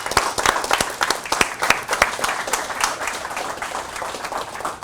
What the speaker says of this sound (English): And we could start applauding right now.